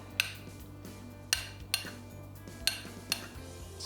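Vegetables spooned from a dish over a potato layer for a vegan potato lasagna, with several sharp clinks of a serving utensil against cookware spaced irregularly over a steady low hum, no talking.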